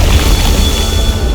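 A Confringo blasting spell bursts in Hogwarts Legacy, a loud, dense rumbling boom with crackling debris that fills the whole short moment at close range.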